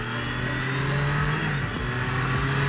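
A new, barely run-in Triumph Daytona 660 sport motorcycle idles and revs gently with a steady, loud engine drone and no talk over it.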